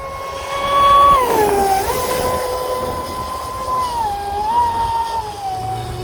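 The Sonicwake V2 RC boat runs on its stock propeller, its electric motor giving a thin whine that rises and dips in pitch as the throttle changes, over a rushing background.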